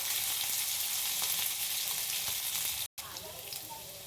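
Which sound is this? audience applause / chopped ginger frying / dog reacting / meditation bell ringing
chopped ginger frying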